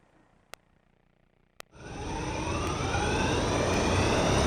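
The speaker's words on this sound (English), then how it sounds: "It's called an eVTOL, electric vertical takeoff and landing." An electric vertical takeoff and landing aircraft, a large drone-like personal flyer, spools up after two sharp clicks, building from quiet into a loud, steady broadband whir and rush that keeps swelling.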